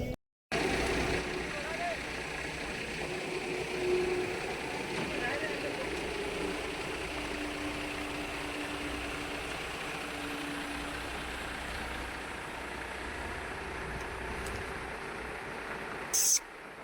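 Vehicle engine running steadily while towing a boat near Belapur jetty, a constant low rumbling drone that holds evenly throughout, with someone talking over it.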